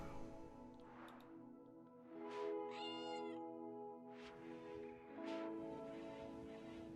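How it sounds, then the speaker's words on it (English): Repeated cat meows in the RimWorld video game, several drawn-out calls rising and falling over a soft, steady musical background, faint and with no talking. "you meow so much."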